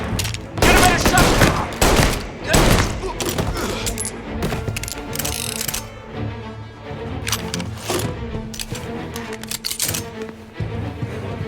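Rapid bursts of gunfire from a shootout with police in Mafia Definitive Edition, loud and dense near the start, then continuing as scattered shots over a busy game soundscape with occasional voices.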